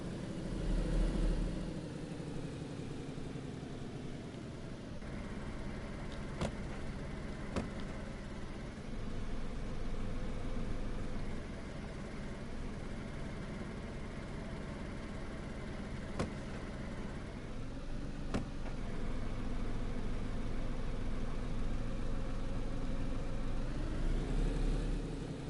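A car engine idles in the video game DayZ with a steady low hum and faint whine, quiet and unchanging, broken by a few soft clicks.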